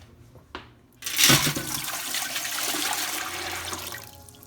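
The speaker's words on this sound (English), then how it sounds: "I'm going to fill it with water about a couple inches" Water pours from a tap into a canning pot, filling it a few inches deep: a loud, steady rushing gush that starts abruptly after a brief thump and continues without talk.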